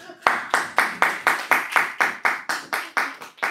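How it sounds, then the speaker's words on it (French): Applause during a Sunday church service: crisp rhythmic hand claps, about four per second in a steady beat, close and loud with no talking over them. "applaudissons pour elle"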